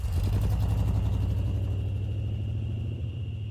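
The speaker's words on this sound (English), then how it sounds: "The car soon disappeared" A car pulls away with a steady, loud low engine rumble that holds for a few seconds and then eases slightly as the car moves off.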